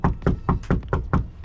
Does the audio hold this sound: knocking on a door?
yes